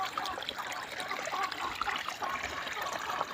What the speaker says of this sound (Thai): นี่วิธีปล่อยน้ำผมไม่ยากครับ ง่ายเดียวนี่ครับขุดให้มันไหลไปด้วย